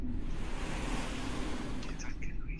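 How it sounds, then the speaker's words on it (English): Water laps in a distant dungeon cavern, a steady soft wash of surf-like noise with a low rumble underneath and a few faint higher splashes near the end, alone without talk. "you can hear the lapping of water in the distance"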